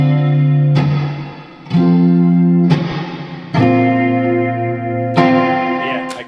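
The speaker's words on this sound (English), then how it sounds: "Turn the reverb on quite a lot because I really like it." Sustained electric guitar chords through a 633 Engineering Custom 20 amp, drenched in heavy reverb, four strums ringing out with long washy tails that blur into each other.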